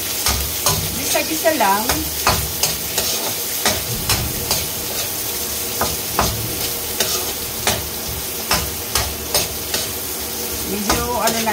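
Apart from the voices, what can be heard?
carrots being added to a frying pan and stirred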